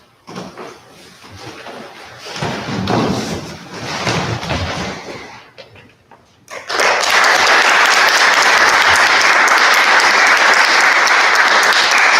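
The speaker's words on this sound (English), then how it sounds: "Thank you very much for clapping" Theatre audience applauding after a stage play, starting with scattered murmur and quieter clapping, then swelling abruptly into loud, sustained, dense applause that fills the room to the end.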